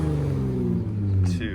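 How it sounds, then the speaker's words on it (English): A 6-cylinder truck engine idles in Baja off-road exhaust mode with a deep, steady harmonic rumble, loud and close, and a brief swell in revs near the end. "It's pretty impressive how well that sounds for a 6-cylinder truck."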